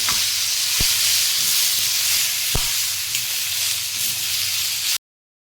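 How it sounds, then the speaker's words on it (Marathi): Onion frying in oil for a Konkani-style chicken gravy, a continuous bright sizzle with a couple of soft clicks from stirring, close by with no talk, ending abruptly. "आपला कांदा आता चांगला फ्राय झालेला आहे"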